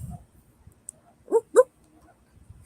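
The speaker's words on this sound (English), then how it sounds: "I can hear dogs barking." Dogs barking at night under a Hunter Moon, two short yelping barks in quick succession, faint and distant, with brief low rustles around them and no talking.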